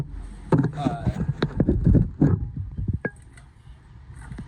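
An abandoned wood chipper's engine running with exposed spinning blades, a rough low rumble and rattling clatter close by, partly under someone talking.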